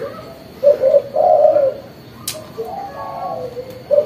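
Soft, mellow coos of a spotted dove close by, a short run of rhythmic hooting notes, fairly clear against quiet background, with a brief tick partway through.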